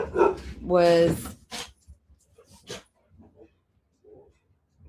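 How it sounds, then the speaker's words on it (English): A dog barks at people walking past a house, a few sharp loud barks near the start followed by quieter yips and short sounds, with brief speech. "The disgruntled dog."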